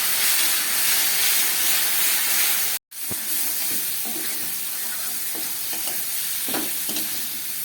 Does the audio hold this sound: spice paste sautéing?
yes